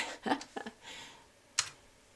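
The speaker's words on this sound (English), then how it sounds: "bear with me because I'm typing with one finger" A few soft taps on a computer keyboard, typed with one finger, with pauses between them, quiet and close, over a faint background hiss.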